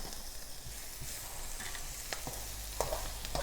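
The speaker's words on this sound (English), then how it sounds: "I'm going to put my soybeans in." Soybeans tipped into a hot pan for a stir-fry sizzle steadily and fairly loud, with occasional clicks and scrapes from stirring over the continuous hiss, and no talk.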